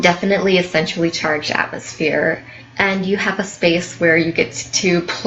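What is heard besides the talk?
No distinct noise like a dog, phone or traffic.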